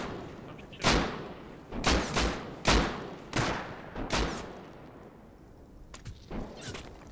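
Several sharp gunshots in the video game Rust fire in a loose, irregular series, with a couple of fainter shots trailing off near the end; loud and close over a noisy background.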